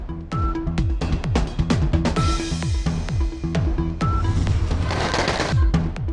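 Fireworks at an Independence Day celebration, a dense rapid string of cracking bursts, some close and loud and others farther away, rattling on almost continuously with a few louder booms mixed in.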